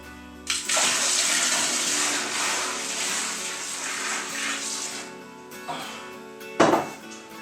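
Water gushes steadily into a home brew Coopers Irish Stout kit fermenter for several seconds, then stops, with a brief splash near the end; close and loud with no talking.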